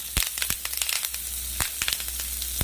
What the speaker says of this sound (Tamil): இப்போ இது கூடவே கட் பண்ணி வச்சிருக்கிற வெங்காயத்தை ஆட் பண்ணிக்கலாம். இது கூடவே கருவேப்பிலை ஆட் பண்ணிக்கலாம்.